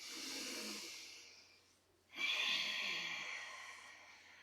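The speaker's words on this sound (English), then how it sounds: "big breath into the fullness of your lungs so that the belly bellows out" A deep breathing exercise: a long, airy full breath in, a short pause, then a strong breathy exhale, close and fairly quiet with no talk.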